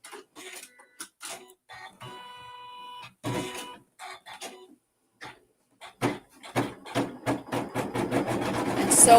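An embroidery machine stitching out a Jack O'Lantern design: bursts of rapid mechanical needle chatter separated by pauses, growing busier and louder toward the end, with people talking intermittently nearby.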